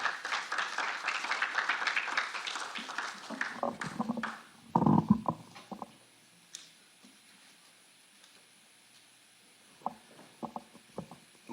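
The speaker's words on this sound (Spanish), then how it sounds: "Por favor, recibámoslos con fuertes palmas." Applause at an international political communication congress: dense clapping for about four seconds fades out, followed by a few scattered claps and quiet room sound.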